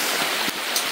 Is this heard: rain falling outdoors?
yes